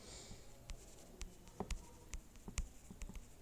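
Pen strokes scratch on paper during a vocabulary lesson, making quiet irregular ticks and short scrapes over faint room hiss, close and soft, with no speech.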